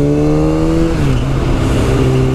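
A Ducati 959 Panigale motorcycle ridden fast gives a loud, close, continuous engine drone whose pitch drops about a second in, then holds steady, with no voices.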